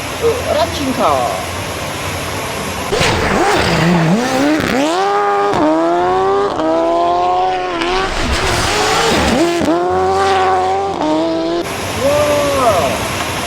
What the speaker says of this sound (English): This is a racing car.